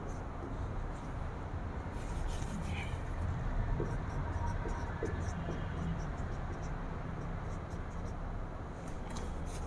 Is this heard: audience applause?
no